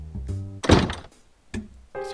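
A door in the point-and-click game Edna bricht aus shuts with one heavy, close thunk, set between short bursts of tonal game sound.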